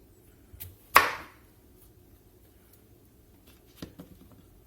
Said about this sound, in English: We're going to start by taking the ends off the squash.